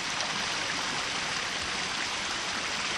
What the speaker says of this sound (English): Alright, I feel water flowing.